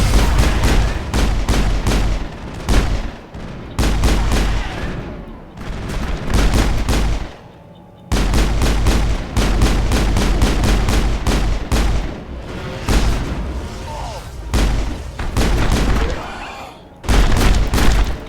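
Video game gunfire in Mass Effect: dense, loud bursts of rapid automatic shots and booming blasts that run almost continuously, broken by a few short pauses, with occasional talking mixed in.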